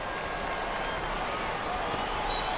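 Packed basketball arena crowd during an NCAA Final Four game between Texas A&M and Washington State, a dense, steady roar of cheering and clapping filling the space, with a commentator's voice faintly under it.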